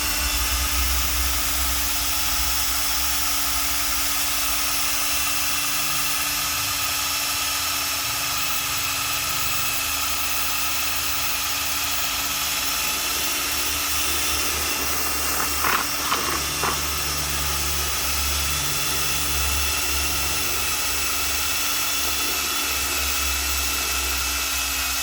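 An electric drill runs continuously with a steady whine and motor hum, close and loud, churning a thick mixture of bio-synthetic fertilizer for the whole stretch.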